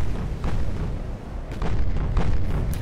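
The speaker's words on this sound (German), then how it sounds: "Die Armata hat gerade geschossen." Heavy naval guns fire from the warship Armata in the Ultimate Admiral Dreadnoughts naval battle, a dense run of rumbling booms with several sharper blasts near 0.5, 1.5 and 2.1 seconds, loud and continuous.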